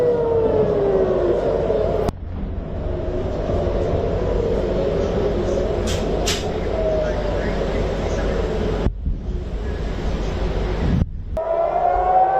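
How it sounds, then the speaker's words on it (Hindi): Air raid sirens wail continuously during an Iranian missile attack on Tel Aviv, a loud rising-and-falling tone over a dense rumbling background with brief cuts, and someone talks over parts of it. "ये सायरन की आवाज आप लगातार सुन सकते हैं।"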